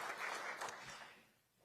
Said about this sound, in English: Let's give her a round of applause as well for leading this great institute.